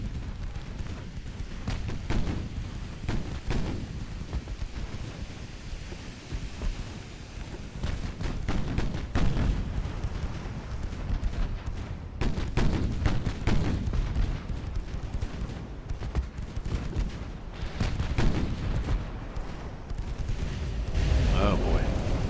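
Naval gun salvos in Ultimate Admiral: Dreadnoughts as a dreadnought fights modern cruisers: a dense series of booming shots and rumbling explosions, loud and sustained, with crackling bursts scattered through.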